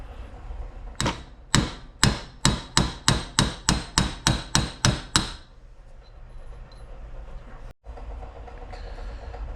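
About a dozen sharp metallic hammer blows in quick, even rhythm, close and loud, while freeing a snap ring and bearing from a 7.3 Powerstroke high-pressure oil pump, followed by a quiet workshop.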